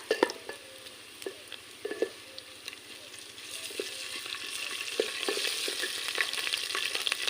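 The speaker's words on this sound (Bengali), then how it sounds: "এখন দিয়ে দেবো রসুন বাটা," Garlic paste sizzles in an oiled pan during mutton curry cooking, with spatula taps and scrapes early on and a frying hiss that grows steadily louder toward the end, no voices.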